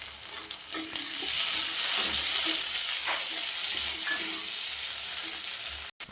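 Chopped tomato sizzling and frying in a pan with onion and chilli, a steady close hiss with soft stirring scrapes throughout, cutting off briefly near the end.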